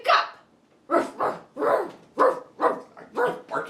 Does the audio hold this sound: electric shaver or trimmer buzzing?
no